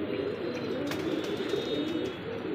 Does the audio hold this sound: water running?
no